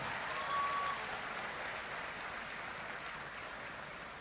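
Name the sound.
audience applause at convocation ceremony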